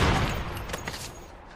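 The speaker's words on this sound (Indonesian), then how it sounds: "suara tembakan pun terdengar" Gunfire from a film scene in The Mentalist: a loud, sharp burst of shots at the start, then a fading, echoing decay over about a second.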